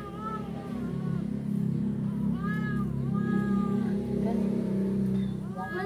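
A cat meows repeatedly in short, rising and falling calls close by, over a steady low hum and some background talk.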